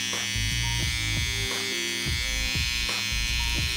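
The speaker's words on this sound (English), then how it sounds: "I'm then gonna take the hair on my neck as tight as I can take it with my trimmer." An electric beard trimmer buzzes steadily close up while cutting neck hair, with a constant high-pitched motor drone. Repeated short strokes give a rhythmic pulsing pattern.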